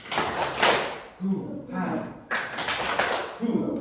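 A classroom group performs a spirit clap, with short bursts of rhythmic hand clapping mixed with voices chanting along, close and lively.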